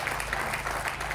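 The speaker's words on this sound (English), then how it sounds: "she deserves a round of applause" An audience at a community day panel discussion gives a short burst of steady clapping for a primary school principal, the applause moderately distant and filling the whole moment.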